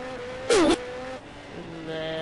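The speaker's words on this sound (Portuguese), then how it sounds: "Ah, moleque, acelera essa moto, moleque." A Yamaha XJ6 motorcycle engine in GTA San Andreas gives one short, sharp rev that rises and falls in pitch, followed by a quieter idling hum.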